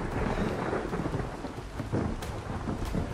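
Thunder rumbles over steady heavy rain during a storm in the survival game Ark, with a continuous loud downpour and deeper rolling swells of thunder, no voices.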